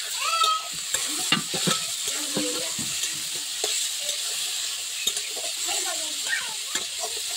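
Green, yellow and red capsicum stir-frying in a pan for egg chowmein, a close steady sizzle with repeated spatula scrapes and clinks and a faint bird call in the background.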